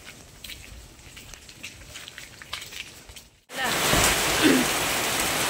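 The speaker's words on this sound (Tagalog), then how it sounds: "Pagdating talaga namin, ayan, bumuhos na naman yung malakas na ulan." Heavy rain suddenly pours down, a loud, dense hiss that starts abruptly after a few seconds of quieter background sounds and light noise and then holds steady.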